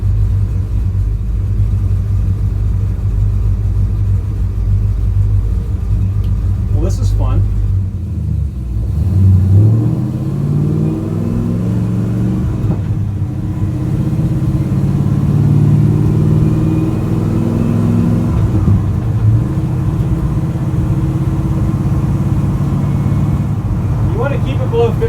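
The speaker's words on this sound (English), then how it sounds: "So we'll see if we can get it to make the gear noise again. Again, that's not the rear end, that's the transmission." A Chevrolet C10 truck drives with a custom driveshaft just installed, its engine rumbling steadily up close while rising and falling whine-like gear tones from the transmission sweep through the middle stretch, with a person talking over it at times.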